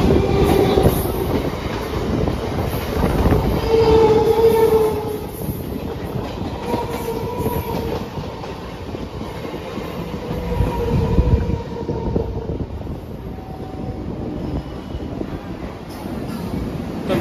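A local train on the Katwa to Sealdah line runs along with continuous rumbling and clattering wheels, with faint tonal squeals and occasional voices in the carriage.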